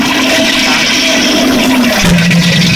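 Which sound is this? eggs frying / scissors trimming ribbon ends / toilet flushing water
toilet flushing water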